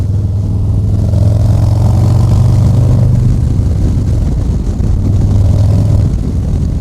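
A 2023 Harley-Davidson Low Rider ST motorcycle engine rumbles loud and close, a deep steady low throb that swells for a few seconds, eases, then surges again, with no talking over it.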